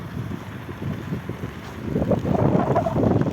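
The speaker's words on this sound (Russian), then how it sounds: "Ветер поднялся." Gusty winter wind with falling snow on a street in Yakutsk buffeting the microphone, a low rumbling roar that swells and grows louder partway through, with no voices.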